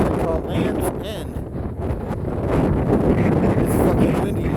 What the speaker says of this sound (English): It's so windy, my beanie's gonna fly off my head.